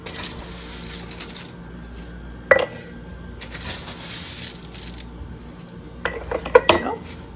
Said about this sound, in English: Put a 1/3 cup in each of the jars.